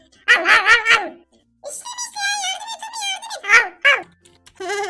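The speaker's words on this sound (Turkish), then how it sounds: "Arkadaşlar Sonic köpek oldu çok komik." In a Minecraft game, a dog character gives a string of high, yipping barks and whimpering squeaks, bright and close, in several bursts separated by short pauses.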